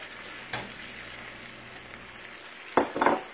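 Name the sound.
vegetables stir frying in a pan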